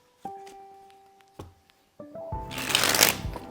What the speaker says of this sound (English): That is the Charlier cut, or the one-hand cut.